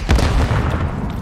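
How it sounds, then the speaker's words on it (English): A stun grenade blast in Call of Duty MW3, a loud low boom rolling on for over a second with no speech over it. "Grenade out! Throw your stun grenade!"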